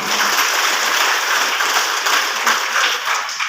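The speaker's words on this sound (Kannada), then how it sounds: "ಅವರಿಗೆ ಒಂದು ದೊಡ್ಡದಾದ ಚಪ್ಪಾಳೆ ಬರಲೇಬೇಕು" An audience at a Kannada public gathering applauds a women's self-help association. The clapping is loud and dense, a sustained wash of many hands with no pauses.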